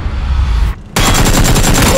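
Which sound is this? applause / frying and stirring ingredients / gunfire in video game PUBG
gunfire in video game PUBG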